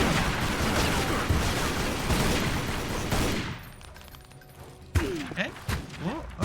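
Rapid gunfire bursts in the Tomb Raider video game, a dense crackling barrage for about three seconds that cuts off abruptly, followed by quieter game sounds and a few sharp effects.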